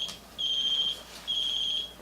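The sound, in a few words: alarm ringing from a phone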